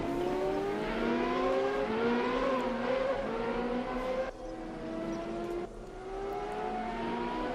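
Race cars at the Hungaroring in RaceRoom, engines droning at high revs as several cars pass close by, their pitch rising and falling in overlapping sweeps, loud and steady, with no talk.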